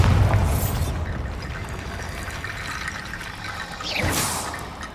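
A Bombarda spell explodes in Hogwarts Legacy near an archway flanked by stacked bones: a heavy low boom opens, the rumble fades into ambience, and a second whooshing burst swells near the end.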